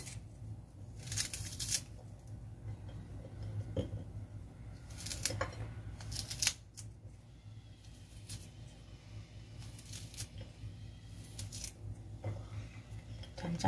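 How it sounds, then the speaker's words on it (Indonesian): Kitchen scissors snip green chili and other ingredients into small pieces before blending, heard as a series of quiet, sharp cuts spaced irregularly against a low background hum. "ini akan saya gunting atau iris-iris sedikit kecil teman-teman ya, biar mudah untuk memblendernya."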